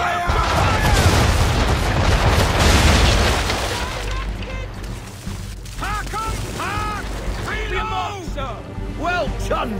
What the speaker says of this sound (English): Bring her own broadside, and when all guns are on target, call fire